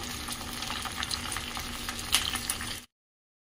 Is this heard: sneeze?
no